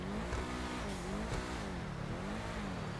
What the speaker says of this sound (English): So, let's listen to the engine real fast here.